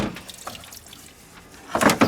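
Water splashes and trickles out of the wiper motor assembly on a Crown Victoria as it is lifted out, a few scattered drips and then a louder burst of spilling near the end, close to the listener.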